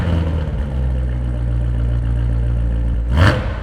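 A Chevrolet Corvette C7 Z06 V8 engine starts and rumbles at a steady idle, deep and close, then briefly flares with a short rev near the end.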